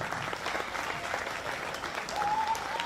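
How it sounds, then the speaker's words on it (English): Steady audience clapping rings through a county fair arena for exhibitors at a 4-H/FFA market hog show, a dense, moderately loud round of applause with a faint tonal whine rising near the end. "please help me in congratulating these exhibitors with a round of applause."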